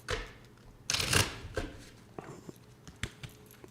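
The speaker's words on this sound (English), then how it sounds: "This needs one shuffle" Tarot cards riffled and shuffled nearby: a loud flurry of rapid papery flutters, then several quieter taps and slaps as the deck settles.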